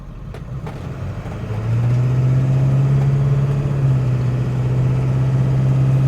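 A 2001 Ford Excursion Limited's 7.3L Powerstroke diesel settles into a steady, loud low idle after rolling to a stop, its deep drone rising at first and then holding even and close.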